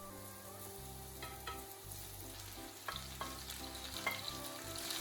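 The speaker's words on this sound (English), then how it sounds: "heat a small amount of oil in a pan and sauté the mushrooms until they release their liquid" Mushrooms sautéing in a small amount of oil in a pan, a soft, steady sizzle with occasional stirring scrapes, close and fairly quiet, with a faint hum in the background.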